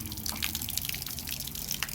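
Hot water pours from the drain valve of a 40-gallon gas water heater, a steady close rush of liquid with dripping and splashing flecks, no voices.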